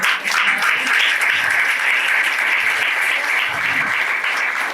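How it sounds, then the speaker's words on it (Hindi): A church congregation at a Sunday service breaks into loud, sustained applause, a dense wash of clapping that holds evenly for several seconds. "परमेश्वर को जोरदार ताली दो।"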